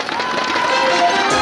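A crowd at an outdoor gorosoe sap festival stage in Yangpyeong Danwol applauds to welcome a singer, a short burst of dense clapping and cheering, fairly loud and close.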